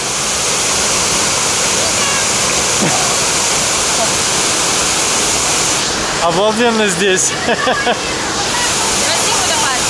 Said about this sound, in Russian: Красивый водопад.